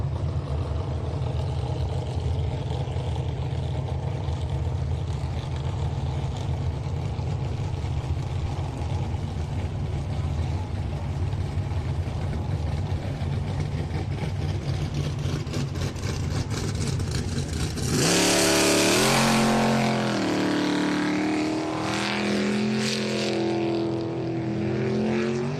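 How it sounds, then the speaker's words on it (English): An unlimited superboat, the Troublemaker, fitted with a 410 cubic inch sprint car engine, drones loudly and steadily, then surges into a sharp rising roar as it revs out on the water; no talking. "Nikki Dale out of water in the Troublemaker, the 410 cubic inch sprint car engine"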